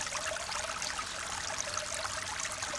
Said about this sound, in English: There's something quite fascinating about the sound of running water